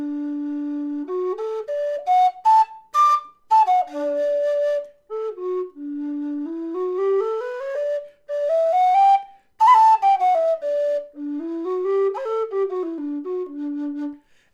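A Carbony standard-bore low D whistle plays a slow, breathy melody with clean sustained notes, sliding runs and short ornamental flicks, heard solo and up close.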